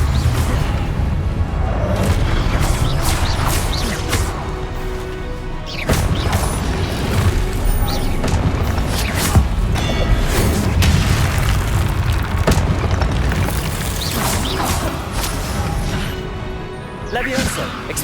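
Confringo blast spells from Hogwarts Legacy burst in repeated booming explosions, loud and dense, scattered irregularly among crashing impacts and whooshes amid busy combat, with voices calling out spells over the fray.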